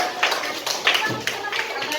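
A classroom gives a short burst of applause for a student group, a few quick rounds of clapping close by with speech mixed in.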